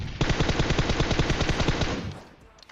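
Rapid automatic gunfire in PUBG Mobile, a dense burst of steady shots for about two seconds before tapering off, loud and close with no voices.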